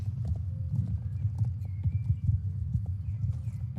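Horse hooves clip-clopping in Star Stable Online, a steady rhythmic trot of close, moderately loud footfalls carrying on throughout with faint background game sounds.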